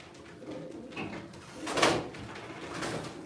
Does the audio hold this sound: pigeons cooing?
yes